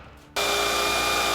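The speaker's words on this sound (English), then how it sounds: "So now we're just drilling a hole through this plate here to bring the water up for the" A power drill bores a hole through a bathroom wall plate for toilet plumbing during a renovation, starting abruptly after a quiet moment and then running loud and steady at full speed until the end.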